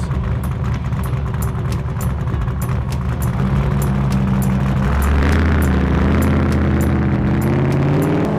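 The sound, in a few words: 850 horsepower Baja trophy truck engine accelerating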